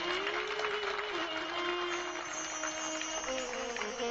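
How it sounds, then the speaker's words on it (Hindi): An audience at a Bhagavat Katha religious discourse applauds, giving a steady broadband wash of clapping that carries through the whole clip, with a faint sustained tonal hum running underneath. "कितने लोगों को अच्छी लगी? ताली बजाकर समर्थन करेंगे।"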